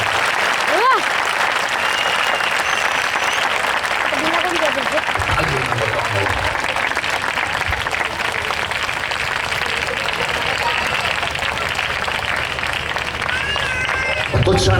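Sustained applause from an audience at a Dharavi youth fellowship gathering, a dense steady wash of clapping that holds at the same level for the whole stretch, with faint voices mixed in.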